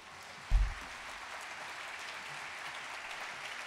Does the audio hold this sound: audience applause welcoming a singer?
yes